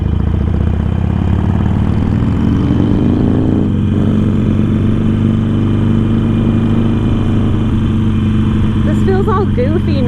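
A Harley-Davidson Sportster motorcycle engine rumbles steadily while riding, a loud low drone with wind noise, and a person talks over it toward the end.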